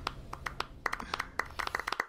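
Sparse, irregular hand claps from an animated scene, about a dozen sharp separate smacks over a quiet low hum, some landing close together and others spaced apart.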